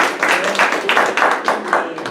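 Audience applause at a comedy fundraiser show, a dense, steady wash of clapping that swells and pulses in uneven waves for about two seconds, with no voices over it.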